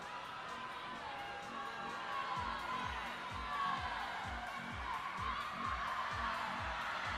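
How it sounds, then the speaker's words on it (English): Spectators at a Las Vegas swim meet's relay and distance session cheer steadily in a large, echoing natatorium, a continuous roar of crowd noise with whoops and shouts rising and falling, and no voices standing out. "Jerry Coates still here cheering for her team"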